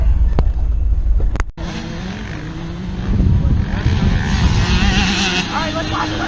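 Old van on the move, a loud droning engine and road rumble from inside the cabin, briefly cut out then rising again and holding steady.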